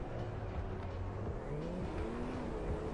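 A car engine in the racing game Forza Horizon on Xbox One revs in a muffled, steady drone, the pitch rising and shifting through gear changes at a moderate, even level.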